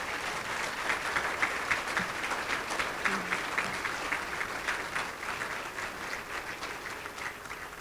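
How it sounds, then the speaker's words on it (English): Audience at a museum reopening gala applauding steadily and continuously, a dense patter of many hands clapping at moderate volume throughout, with no voices standing out. "Give them a great round of applause."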